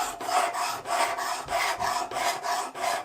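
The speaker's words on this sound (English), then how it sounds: "So let's go ahead and sharpen this one up." A knife blade drawn repeatedly across the abrasive stone of a Worksharp Precision Adjust sharpener, steady rasping strokes about every third of a second, close and loud with no talk.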